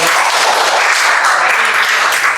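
Students applaud in a classroom, a steady wash of many hands clapping together throughout, fairly loud and close, with no talk over it.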